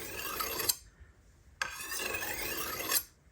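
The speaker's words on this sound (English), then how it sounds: "I hold the diamond file here against the table, and I just lightly" Two slow, even strokes of a diamond file rasping along the burr of a serrated knife edge, each a bright, gritty scrape close to the microphone, separated by a brief pause with no talking.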